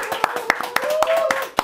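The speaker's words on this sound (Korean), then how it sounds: "집에서 시청하고 계신 분들 박수." A handful of people clap in quick, sharp, evenly spaced claps during a live-streamed studio chat with a rapper, while a voice keeps talking over them.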